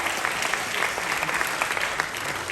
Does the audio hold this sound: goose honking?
no